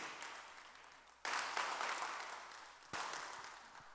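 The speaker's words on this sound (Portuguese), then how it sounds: "uma salva de palmas para Jesus" A congregation at a Sunday Bible school claps in praise, the applause quiet and distant, surging in two abrupt bursts that each swell and then slowly taper off.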